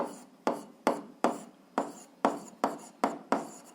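Pen strokes on paper during a 7th-grade algebra exercise, about eight quick scratchy marks in an even rhythm, each a sharp onset fading off, close and fairly quiet with no talking.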